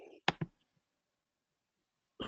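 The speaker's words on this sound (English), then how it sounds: "So, Craig, I think I can still hear you clicking." A participant's microphone picks up a few quick, faint clicks during a video call, with short gaps of silence between them.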